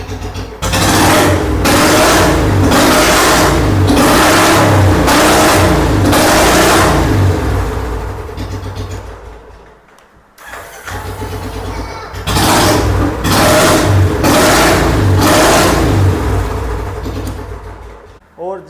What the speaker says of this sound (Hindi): गाड़ी प्रॉपर स्टार्ट हो रही है।